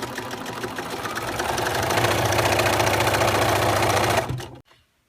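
Sewing machine stitching binding onto a quilt, running steadily and close for about four seconds before it stops and goes quiet.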